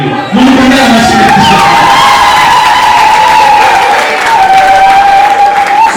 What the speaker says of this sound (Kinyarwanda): mumukomere amashyi